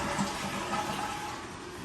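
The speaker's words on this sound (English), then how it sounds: "And then we're going to flush the toilet." A household toilet flushing during a home walk-through, a steady loud rush of water that fills the whole moment without any talk.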